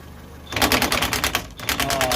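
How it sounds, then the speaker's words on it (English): Impact gun hammering off a coil spring mount nut on a 2006 Ford Fiesta Mk5 front suspension, a loud rapid rattling burst that starts abruptly, with a brief dip midway before continuing. "I'm going to try and do this with my impact gun"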